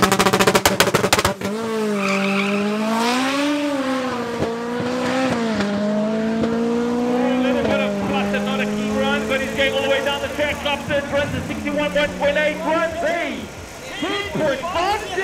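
Volkswagen Polo 6R drag car at a Zeerust drag racing event, its engine howling loud and sustained as it runs up through the gears on the quarter mile, with rising and falling pitch sweeps and a crackling tail at the end.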